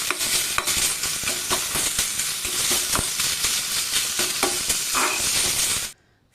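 Indian borage leaves frying in a pan, with steady crackling sizzle and repeated scraping stir strokes throughout, loud and close, no talk, ending abruptly into near silence after about six seconds.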